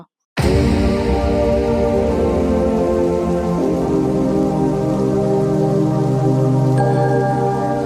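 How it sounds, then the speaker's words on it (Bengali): Onion with ginger and garlic paste fries in hot oil while beef tripe is being cooked, giving a dense, steady sizzle that starts abruptly and stays loud and close throughout, with no voices. "পেঁয়াজের সাথে আদা এবং রসুন বাটাটা দেওয়ার পর খুব ভালো করে তেলের মধ্যে ভেজে নিচ্ছি"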